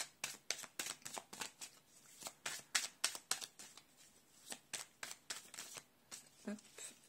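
Playing cards are shuffled and drawn in a rapid series of crisp riffles and flicks, close and fairly loud, with a quiet voice in the background.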